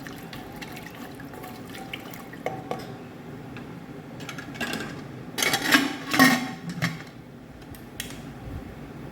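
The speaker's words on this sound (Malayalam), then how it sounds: "ഇനി വെളിച്ചെണ്ണ ഒഴിക്കാം മൂന്ന് ടീസ്പൂണോളം വെളിച്ചെണ്ണ ഒഴിക്കാം" Quiet kitchen clatter, then a short burst of coconut oil pouring and splashing into a pan, with a few light clinks nearby.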